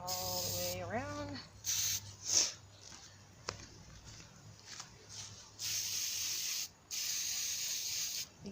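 Stone-texture spray paint hisses onto a ceramic piece in several close aerosol bursts, some short and some lasting over a second, with brief speech near the start and quiet gaps between sprays.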